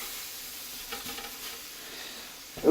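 Potatoes sizzle faintly in a hot pan, a soft steady frying hiss with light stirring noises and a small bump near the end.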